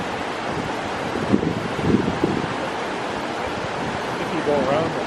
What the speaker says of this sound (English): It's loud noise of the water.